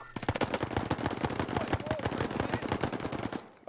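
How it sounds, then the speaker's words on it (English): Pistol gunfire in the Call of Duty Warzone video game: a fast, steady string of loud, close shots runs for about three and a half seconds before cutting off. "Yeah, I was shooting with my pistol."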